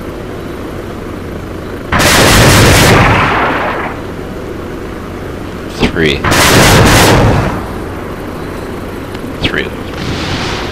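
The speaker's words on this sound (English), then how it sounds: "Just did a successful bombing run on the blue 4 base." Two big explosion bursts from a bombing run on a coastal enemy base in an air-support video game, each a loud broadband blast fading over a couple of seconds, with brief voice chatter between them.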